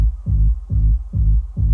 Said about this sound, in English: This is the sub bass line